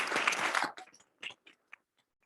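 Event staff receive a round of applause from an industry-night audience, a short burst of clapping that breaks off fast and trails into a few scattered, separate claps before silence.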